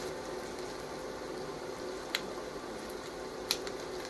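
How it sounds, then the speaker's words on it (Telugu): Onions frying in a pan with green chillies and curry leaves. A steady, soft sizzle runs throughout, with two brief sharp pops near the end and no talk. "సో ఆనియన్స్ చక్కగా వేగుతున్నాయి కదండి"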